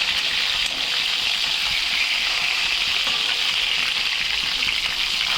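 A Katla fish head fries in hot oil, making a continuous, even sizzling hiss with small pops, heard up close with no talk.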